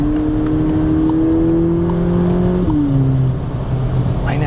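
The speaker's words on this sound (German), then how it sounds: "Meine Herren, soundmäßig ist auf jeden Fall hier auch einiges los bei dem Auto." A VW Polo GTI engine revs while driving, a steady rising drone that climbs in pitch, briefly dips at a gear change, then settles lower, heard clearly from inside the car.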